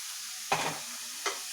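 Cucumber pachadi ingredients sautéing in a pan give a steady low sizzle, broken by two short scraping stir strokes, the first longer and louder, the second brief.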